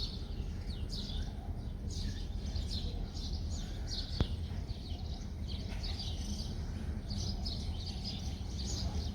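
Steady outdoor chirping and tweeting of sparrows, with pigeons' cooing murmurs underneath, continuous and moderately loud, as the flock feeds on scattered grain nearby.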